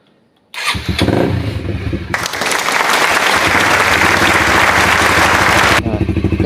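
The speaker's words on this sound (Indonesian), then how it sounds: "Oke, kita pasang, kita coba start. Oke, kita nyalakan ya." An old Honda CBR motorcycle, fitted with a replacement rectifier, cranks after a moment of quiet, catches and settles into a loud, steady close idle with a dense, rattling engine clatter.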